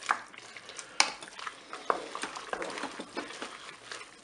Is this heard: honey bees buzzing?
no